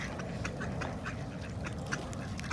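Ducks quack repeatedly at a park lake while being fed, short nasal calls overlapping close by against a steady bed of outdoor noise, with no talking.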